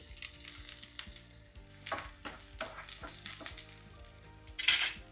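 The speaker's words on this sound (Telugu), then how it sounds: "ప్యాన్ పెట్టుకొని కొద్దిగా ఆయిల్ వేసుకుందాం ఇప్పుడు సన్నగా తరిగి పెట్టుకున్న వెల్లుల్లి" Finely chopped garlic frying in a little oil in a pan for soya manchurian, with soft crackling sizzle, bursts of stirring and scattered metal clinks, fairly quiet and without voices.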